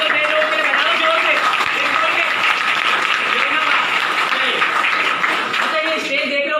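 Crowd applause at a Vestige meeting welcoming newcomers, loud and steady clapping from a large audience with a voice speaking over it throughout.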